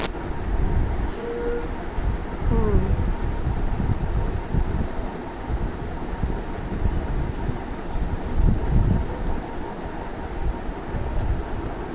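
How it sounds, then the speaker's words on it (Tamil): Steady wind gusting through a farm garden on a hot May summer day, a broad continuous rush that rises and falls in loudness across the whole stretch, with faint rustling and no voices. "இந்த வெயில் காலத்தில் இப்படிலாம் காற்றுல நம்ம நின்றோம்னா வேறு எதுவுமே நம்மளுக்கு தேவையில்லைன்ற மாதிரி"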